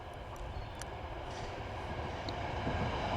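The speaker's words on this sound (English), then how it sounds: "Ooh, Train." A train passing, heard as a steady low rumble and rolling rail noise at moderate distance, faint and continuous with a slight swell toward the end, no voices over it.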